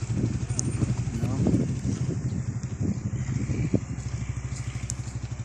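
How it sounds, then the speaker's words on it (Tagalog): A motorcycle rumbles past on an outing at Monte Maria, its steady low engine drone running through the clip beneath people talking nearby. "Yung motor yun."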